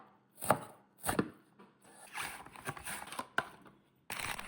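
Thin slices of tomato and onion being cut with a kitchen slicer, heard as a few separate crisp chopping strokes with short pauses between them, close and fairly quiet, with no talking.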